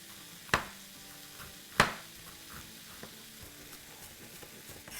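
Black chickpeas roasting with spices in a pan, marked by two sharp utensil clacks against the pan over a low, steady frying sizzle.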